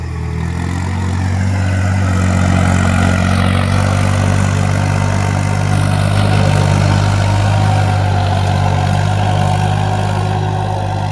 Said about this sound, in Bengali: পাওয়ার টিলার দিয়ে জমি চাষ।